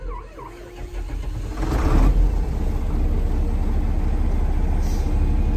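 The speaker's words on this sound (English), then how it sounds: "we did want to start it and give you a little video so that we could let you hear the tractor run" A 1982 John Deere 4440 tractor hooked to a grain auger idles after being started, a steady low engine rumble filling the whole stretch, close and loud, growing slightly stronger early on with no talking.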